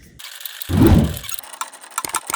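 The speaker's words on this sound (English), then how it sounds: "I'm just going to tighten these bolts up." A ratchet tightening bolts on a Jeep JK dual-battery mount: a brief ratcheting burst, then a louder grinding rasp, followed by a rapid string of clicks, close by with no talk.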